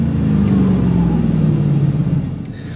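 A 2001 Ford F-150 SVT Lightning with a supercharged engine and Borla exhaust rumbles in a loud, close engine note that drops slightly in pitch and fades a little toward the end.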